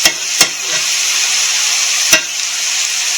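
Meat frying in a pan for biscuit gravy, a steady loud sizzle throughout with a few sharp clicks of a utensil against the pan, no voices.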